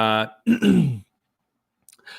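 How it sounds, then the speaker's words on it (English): A man clears his throat on a live stream, a short voiced rasp followed by a longer gruff throat-clearing burst, then silence and a faint trailing noise. "I keep clearing my throat because something I ate congested me"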